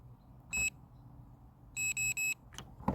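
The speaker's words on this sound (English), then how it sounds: "pull the trigger down until it beeps a couple of times" An Anbull 21V electric pruning shear closing gives one short electronic beep, then three quick beeps in a row, crisp and close over faint background hiss, with no voices.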